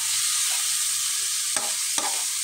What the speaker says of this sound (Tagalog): muna natin masute yung chicken sa bawang at saka sibuyas